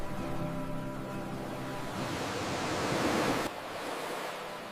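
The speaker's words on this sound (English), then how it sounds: "I love the sound of the waves and the feeling of the sand on my feet." Ocean waves wash onto a sandy beach in a continuous broad roar with a soft swell, then drop in level abruptly near the end.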